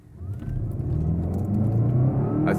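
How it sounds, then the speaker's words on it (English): Volkswagen Golf GTE plug-in hybrid accelerating hard from a standstill, a steady low motor and road rumble building with a rising whine, heard from inside the car with no talk. "0 to 60 in a Golf GTE."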